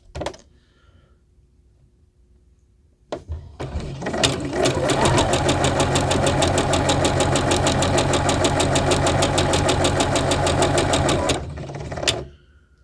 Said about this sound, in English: So I'm going to sew 2 blocks together.